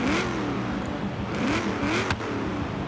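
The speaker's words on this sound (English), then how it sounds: "let's hear that sound now, the proper sound of a muscle car." A 1970 Chevrolet Camaro V8 engine in a racing video game revs and roars continuously, rising and falling in pitch with a throaty, rumbling growl close up.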